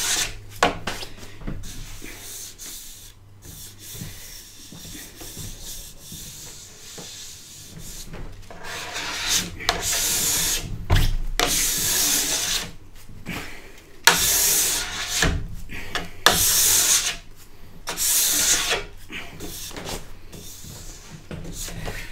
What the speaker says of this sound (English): the less wax you use, the easier it is to scrape off